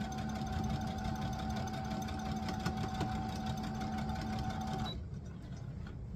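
A sewing machine runs at a steady, close whir while stitching fabric, humming continuously for about five seconds before cutting off abruptly into quiet.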